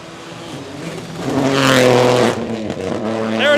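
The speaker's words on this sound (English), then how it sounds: "I'll point the mic at the car audio" A front-wheel-drive rally car revs hard on a dirt jump at a Tennessee speedway rally stage, its engine note swelling loud and close before easing off and then climbing again.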